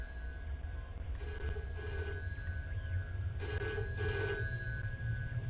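A telephone rings inside a video game, two clear double bursts of a classic bell-style ring with a pause between them, steady and fairly close over a low background hum.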